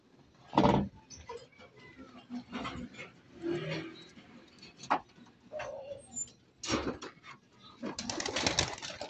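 Soft pigeon cooing with bursts of flapping wings as released pigeons take off, scattered flutters and rustles nearby, no talking.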